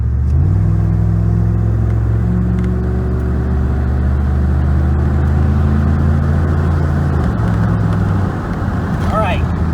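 An old 360 V8 truck engine with over 210,000 miles, fitted with a throttle body spacer and cold air intake, accelerates hard but short of full throttle, a loud, steady, rising drone that fills the whole stretch.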